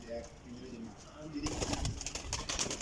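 Soft low cooing of pigeons nearby, repeated throaty calls overlapping, with someone talking over them and handling noise in the second half.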